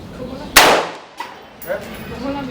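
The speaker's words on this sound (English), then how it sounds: "So we're shooting the Hornady ammo now." A Savage 11VT .308 bolt-action rifle firing Hornady ammunition outdoors: one sharp, loud shot with a decaying ringing tail, then faint softer sounds and low background noise.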